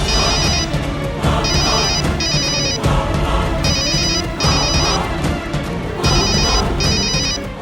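A telephone rings in a repeating electronic ringtone, loud and close, with bursts in steady pairs over a dense backdrop of dramatic music and room noise.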